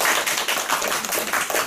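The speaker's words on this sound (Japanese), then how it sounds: "じゃあ、皆様、拍手をよろしくお願いします。" Small audience at a Japanese café event clapping for a shamisen guest, a close, fairly loud patter of hands with uneven pulses, brief and without talk over it.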